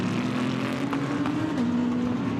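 GT race cars in a Fanatec GT World Challenge Europe race at the Nürburgring roar continuously, engine drones holding steady with slight pitch shifts as cars run close together, loud and constant with no talk.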